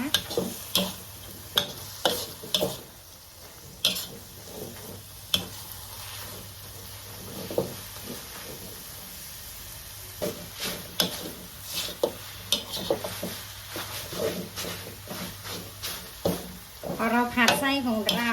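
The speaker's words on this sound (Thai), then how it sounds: "ผัดต่อจนแห้งจนเหนียวดีเลยนะคะ" Sticky sugarcane-sugar filling for khanom thian stirred in a wok over low heat until dry, with frequent sharp scraping and tapping strokes of the spatula over a soft sizzle, close up, and a few words spoken.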